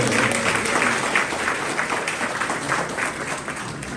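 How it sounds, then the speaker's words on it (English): Steady applause from a crowd fills the room, dense and continuous clapping throughout. "I think it deserves another round of applause"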